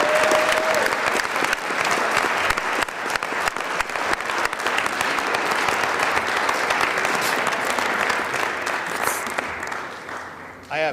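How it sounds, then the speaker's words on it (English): Sustained, steady applause from a large audience thanking presenters at a community justice and peace gathering, dense and continuous for about ten seconds before tapering off near the end. "Let's give another hand of applause to our presenters"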